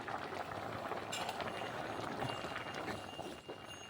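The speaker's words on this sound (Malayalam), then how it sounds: "ഒരു തേങ്ങ അരച്ച് ഒഴിക്കുകയാണ്." A pot of curry bubbles and simmers steadily just after ground coconut paste has been poured in, a close, continuous wet burbling with no talk.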